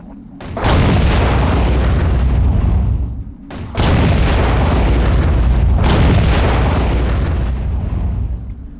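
Two long, heavy explosions in the video game Aquanox roar one after another, loud and close, each with a booming low rumble that fills the air before briefly dropping off.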